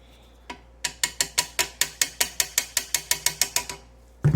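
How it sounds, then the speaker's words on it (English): A ratchet clicks in a steady, evenly paced run of about fifteen crisp ticks while a screw is worked loose during disassembly of a motorized Singer 27 sewing machine, ending in a heavier knock. "I love the ratchet, but it gets in the way when you don't need it."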